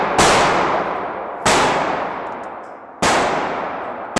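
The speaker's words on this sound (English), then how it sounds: "I'm going to shoot a 9mm Glock that's on me right now." Three loud, sharp 9mm Glock 19 pistol shots fired at an even pace about one and a half seconds apart, each a sudden crack followed by a long ringing decay, with no voices.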